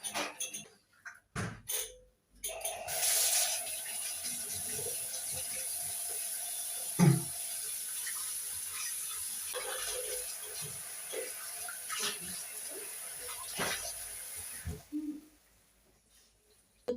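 Tap water runs steadily into a sink for over ten seconds while children brush their teeth in a home in Switzerland, with small clatters and knocks around it before the flow stops.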